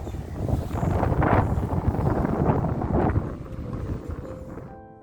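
Strong seaside wind at Galataport, Istanbul, buffets the microphone in a loud, continuous roar that swells and eases, with no voices, fading out at the very end.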